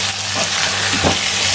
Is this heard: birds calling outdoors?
no